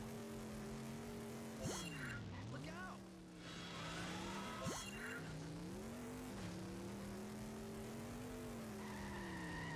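A car engine in a racing video game revs and whines continuously, its pitch sliding up and down with sharp jumps at gear changes and a brief dip mid-run.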